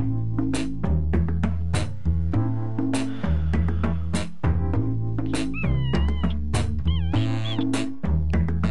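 A cat meows repeatedly in a fast, insistent run of calls with warbling, sliding pitch, loud and close throughout, over a steady musical backing from a party game.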